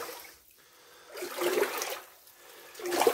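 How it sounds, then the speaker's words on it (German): Water pours and gurgles into a mine tunnel in the Upper Harz in two surging bursts separated by a quieter lull, a hollow rushing flow without any voices. "Aber da läuft irgendwo Wasser rein"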